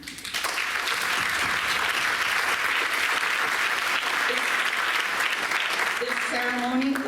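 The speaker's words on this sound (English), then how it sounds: "Let's take a moment to give a huge round of applause to your families who are here with us tonight." At a high school senior achievement ceremony, an audience breaks into sustained applause for the families present, a loud, even roar of many hands clapping, with a faint voice emerging near the end.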